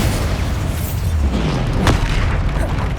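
A Bombarda spell explosion in the video game Hogwarts Legacy lands as a single deep boom with a sharp crack near the middle, set over a dense, steady rumble of game noise.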